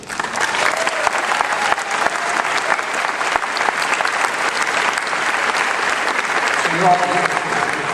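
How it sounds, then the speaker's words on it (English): A Comic-Con audience applauds the crew of a science fiction series at a convention panel, a sustained, full-room clapping with cheers that holds at an even level throughout, a brief voice surfacing near the end. "they deserve a round of applause, I think"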